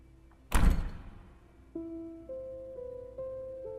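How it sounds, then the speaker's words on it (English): A heavy door slams once in a stone castle corridor, a loud booming impact that rings and decays, followed by faint tonal sounds. "there came the sound of a door slamming"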